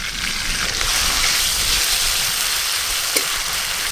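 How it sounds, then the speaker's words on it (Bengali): Onion and garlic paste frying in hot oil in a kadai seasoned with whole cumin, a steady, loud hiss and sizzle that holds evenly throughout with faint crackles. "গরম তেলে পেঁয়াজ বাটা রসুন বাটা একটু ভালো করে প্রথমে ভাজবো"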